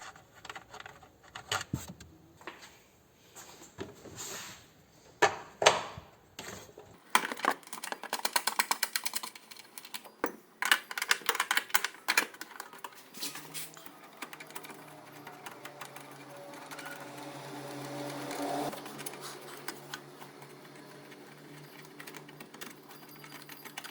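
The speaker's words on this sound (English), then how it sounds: "Now I'm going to go ahead and remove the rest of the screws." Fast mechanical whirring bursts from a power screwdriver come and go as screws are backed out of a Subaru Impreza tail light, close up, with small clicks and handling noises between bursts.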